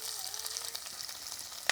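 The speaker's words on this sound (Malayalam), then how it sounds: "അത് മാറി വന്നാൽ നമുക്ക് ഒരു 5-8 ചെറിയ ഉള്ളി ചെറുതായിട്ട് അരിഞ്ഞത് ഇട്ട് കൊടുക്കാം." Chopped shallots frying in a pan for Kerala-style moru curry, a faint, steady, crackling sizzle with a small clink near the end.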